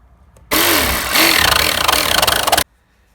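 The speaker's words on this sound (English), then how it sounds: "it's gonna be easier to follow when we're gonna cut with the cutting machine" A cutting machine slices through a van's metal body to open a window hole, a loud, steady grinding rasp lasting about two seconds with a pulsing texture before cutting off abruptly.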